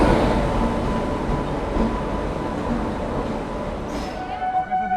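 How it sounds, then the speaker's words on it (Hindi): Jallianwala Bagh Express hauled by a WAP-7 electric locomotive from Sealdah, heard from inside a coach as a steady, loud rumble of running wheels and carriage noise with a brief tonal whine near the end. "तो चलिए दोस्तों, आ चुके हैं अपनी जलियांवाला बाग एक्सप्रेस।"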